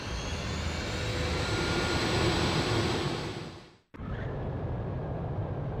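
Jet fighter engine roaring at full power before takeoff in the Ace Combat 5 combat flight game, a loud sustained roar that swells, cuts out abruptly for an instant, then resumes steadily.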